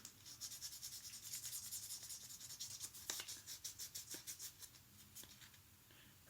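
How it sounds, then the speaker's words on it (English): Sandpaper scrubs across a fingernail repair patch in quick repeated strokes, a close, dry rasping that runs steadily and then breaks into short separate passes toward the end. "got my sandpaper ready. Let's sand this."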